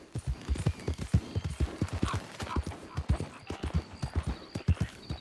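Horse hooves clip-clopping in Red Dead Redemption II, a steady run of hoof strikes in quick rhythm, close and clear, with a brief whinny partway through.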